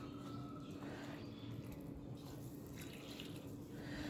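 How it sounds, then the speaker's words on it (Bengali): Water trickles and drips onto potted plants, a soft, continuous splashing at close range under faint background ambience, with no one speaking. "এই গাছগুলোতে একটু জল দিয়ে নিই"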